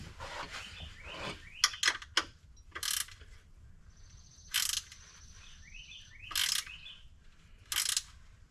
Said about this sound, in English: I'm gonna grab a 10 mil longer one or a ratchet wrench or something to help